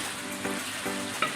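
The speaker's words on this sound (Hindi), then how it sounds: "चिकन को अच्छे तरीके से इसके साथ फ्राई कर लेंगे। अब हम अदरक लहसुन डाल दें" Chicken frying in a pan with ginger and garlic just added, a steady close sizzle with a few brief stirring scrapes over about a second and a half, no voices.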